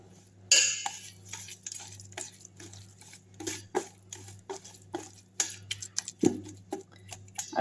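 Onion pakoda batter being mixed in a bowl with sesame oil, giving a run of irregular close scraping and clinking taps of spoon against bowl, with a low steady hum underneath and no talking.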